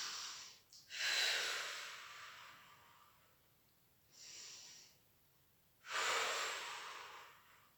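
Three separate breaths in a Pilates hundred exercise on a mat, each a breathy exhale that rises and fades, the first and last long and strong, the middle one shorter and softer, with quiet pauses in between.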